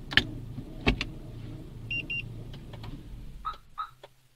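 A Daewoo Lanos engine cuts off under control of its alarm system, with short electronic beeps and clicks and a faint motor whir, ending in quiet with a low hum.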